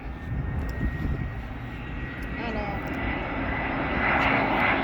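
Passenger airplanes at BWI Airport drone and whine with a loud jet engine roar that swells toward the end, while people talk over the noise.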